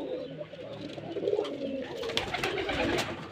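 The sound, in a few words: Giribaz pigeons cooing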